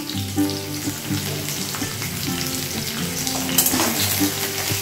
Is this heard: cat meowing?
no